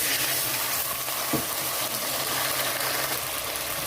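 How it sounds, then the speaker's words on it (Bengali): Ginger paste fries in hot oil in a pan with a steady, dense sizzle that holds evenly throughout at close range. "এখানে আদাটা একটু ভাজা হয়ে গেছে"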